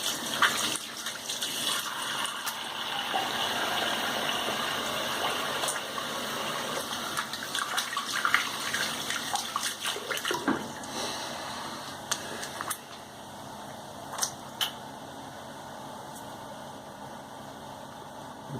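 Water runs steadily from a tap for a long stretch, a constant rushing hiss with a few light clinks and knocks near the end.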